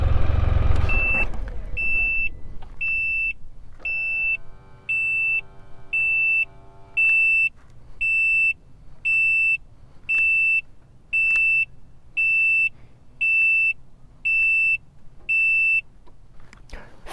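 A Can-Am Spyder RT Limited three-wheel motorcycle sounds a long run of loud, piercing warning beeps after being shut off with the parking brake not set, about fifteen evenly spaced tones repeating steadily with no one speaking.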